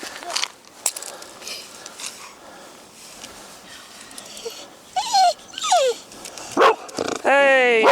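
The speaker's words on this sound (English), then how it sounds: "Oh, we've got another dog." Another dog met on a dog walk yelps and barks in sharp bursts near the end, preceded by scattered whimpers, over outdoor background noise and a person talking.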